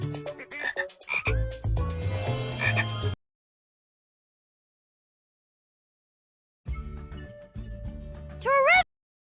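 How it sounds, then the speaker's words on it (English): Bursts of dense, rhythmic frog croaking fill the start, then silence, then another stretch of croaking ending in a few rising whistled calls. "F is for frog."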